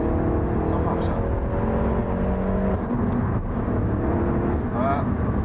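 A Peugeot 308 GTi driving on the road, steady engine and road noise with a falling engine note as it slows, heard from inside the car while a person talks over it.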